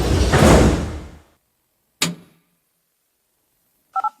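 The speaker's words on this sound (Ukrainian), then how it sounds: "Обережно двері зачиняються. The doors are closing." Metro train doors on a Kyiv line near Chernihivska station slide shut with a broad rushing sweep that fades out, then a sharp thud as they close, followed after a pause by a quick double chime.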